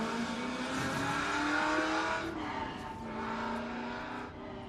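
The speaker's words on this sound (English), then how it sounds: "how good does that thing sound with the 7-litre big block V8 under the bonnet, heading down into turn 2" A Mercury Cougar race car with a 7-litre big block V8 roars steadily past at a historic sprint meeting, loud and sustained with a slight pitch shift as it heads into a turn.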